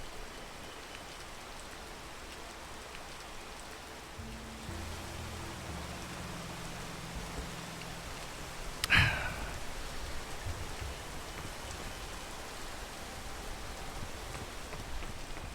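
Rain in the video game PEAK, a steady hissing downpour throughout, with a low rumbling tone entering midway and a sharp crack near the middle.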